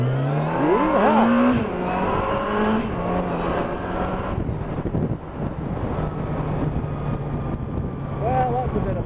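A Yamaha FJR motorcycle accelerating hard on a night ride, its engine climbing through rising revs with a gear change, heard up close under heavy wind rush while the rider whoops.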